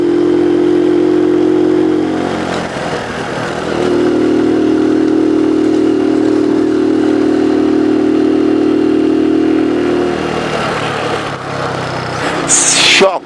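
A motorcycle engine runs steadily on a rough unpaved road near Sarımsaklı, Ayvalık, with a loud sustained drone that dips around two seconds, holds level, then shifts near the end, while someone talks over it.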